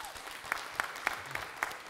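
An audience applauds after a community singing performance of an Amis song, steady clapping at moderate distance with a few sharper, louder claps standing out rhythmically.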